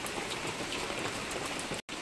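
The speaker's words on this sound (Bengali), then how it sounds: "আকাশের অবস্থা, বৃষ্টি হয়েই যাচ্ছে।" Steady rain falls outdoors near a budgie cage set back from a wall, a dense even patter of drops on surfaces with no voices, briefly cutting out near the end.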